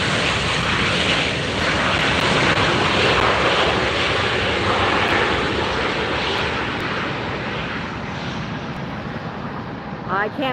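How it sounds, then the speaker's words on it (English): A Southwest airliner landing at LAX roars past in a loud, broad jet rumble that holds steady and slowly eases, with a person talking over it. "Oops, Southwest landing."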